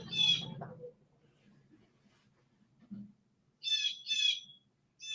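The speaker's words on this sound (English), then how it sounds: "The bird's talking shit." A bird calls outdoors in short, loud, high chirping bursts: one at the start, two in quick succession near the end, and another cut off at the finish, with quiet gaps and a brief low murmur between.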